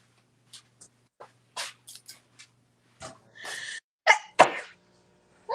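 A single sharp sneeze bursts out in a quiet sewing room amid soft scattered clicks and rustles of fabric handling, followed by brief talk.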